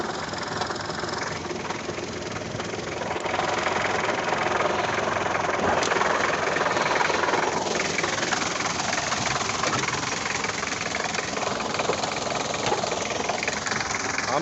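Two-litre engine of a 1978 Land Rover Series 3 idling with the hood open, a steady, close, rattly drone that stays constant throughout with a faint clatter over the top.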